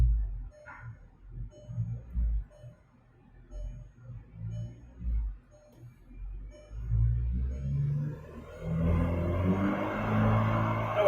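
A car engine pulls up through its rev range after being put back into gear, a low rumble swelling into a louder, broader roar toward the end, with softer idle-like pulsing earlier.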